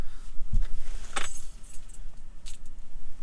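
A brief bright jangle of a camper van key bunch being handed over outdoors, a quick metallic rattle under a steady low rumble of background noise, near and fairly loud, with no one speaking.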